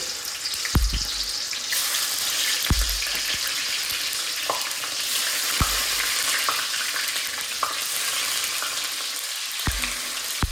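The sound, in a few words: tofu frying in hot oil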